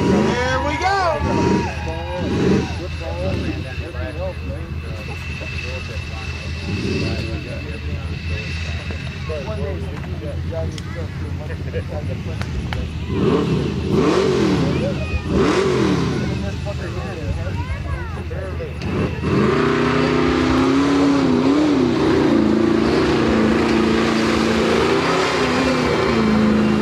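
A 1953 Ford drag car with a 454 engine revving and accelerating at a drag strip, a loud roaring engine that builds and surges over nearly half a minute, with an announcer talking over it and crowd noise.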